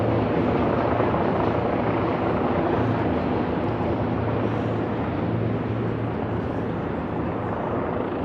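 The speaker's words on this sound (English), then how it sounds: "No doubt we're going to see a helicopter take off." A helicopter flies over Lower Manhattan near the Brooklyn Bridge, its rotor giving a loud, steady, continuous whirring roar that barely changes and fills the whole stretch without pause.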